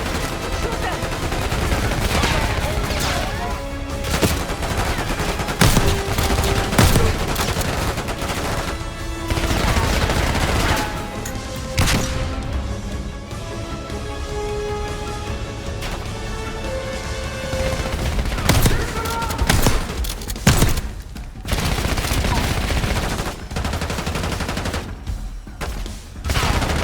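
Black Ops 6 firefight with repeated bursts of automatic gunfire and single shots, loud and close, scattered through the scene amid game sounds and occasional voices.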